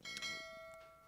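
A bright notification bell chime strikes once near the start and rings out with a clean, sustained tone that slowly fades, with a faint second touch partway through.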